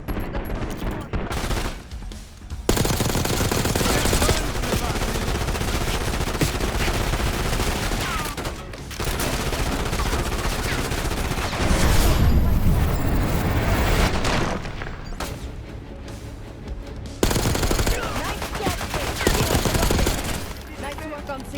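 Heavy gunfire in the shooter game Call of Duty Black Ops 6: dense, loud automatic bursts and booming shots nearly nonstop, broken by brief lulls, with voices heard amid the combat.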